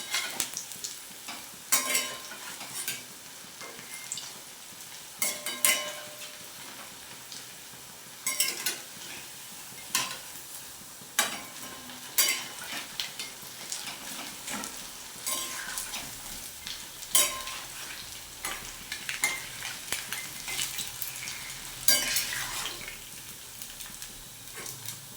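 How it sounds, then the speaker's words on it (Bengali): Food fries in a pan until reddish, a soft continuous sizzle broken by repeated scraping and clinking stirs at uneven intervals, fairly quiet and close. "আমি লাল করে ভেজে এই ডিশে তুলে নিচ্ছি।"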